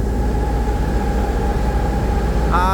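The Chandpur-bound Bogdadia-7 passenger launch overtakes a paddle steamer on the river, its engine a loud, steady drone with a faint whine, and a brief rising tone comes in at the very end.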